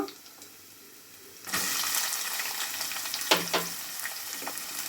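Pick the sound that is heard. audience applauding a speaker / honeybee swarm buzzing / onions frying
onions frying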